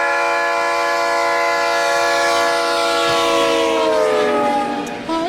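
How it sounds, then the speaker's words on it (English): A hype-train sound effect plays a loud, sustained train horn, a rich chord-like blast that holds steady and then bends and fades near the end, with no one speaking. "Train coming through."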